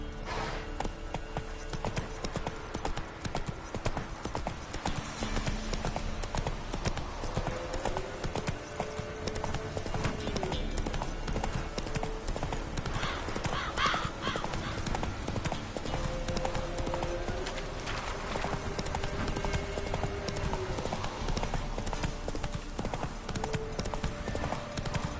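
Steady clip-clop of the horse Roach's hooves in The Witcher 3: Wild Hunt, a continuous even trot with game music and ambience beneath and a brief whinny-like sound mid-way.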